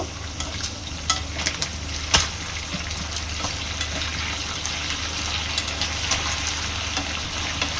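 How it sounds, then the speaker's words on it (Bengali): Steady, close sizzling of chicken pieces frying in hot oil in a pan, with scattered pops and crackles throughout. "আমার মুরগির মাংসের ওই পিঠ ভাজা হয়ে গেছে, এখন উল্টায় নিব।"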